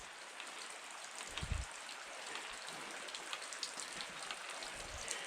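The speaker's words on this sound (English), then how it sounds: "Got this little waterfall going on right here." Small waterfall on a wet, rough forest trail, a steady soft rush of falling water at moderate distance with faint splashy texture and a few low thumps.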